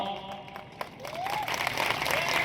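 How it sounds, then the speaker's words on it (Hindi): Crowd applause at an Aam Aadmi Party rally in Dediapada, welcoming district panchayat candidates; broad clapping rises and thickens over a couple of seconds, with a whistle-like tone gliding through. "मैं चाहूंगा तालियों से उनका स्वागत कीजिए।"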